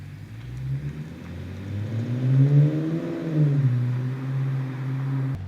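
A cheap replica BMW M5 starts up and pulls away, its engine rising and falling through a couple of revs as it accelerates, heard close and alone without talk.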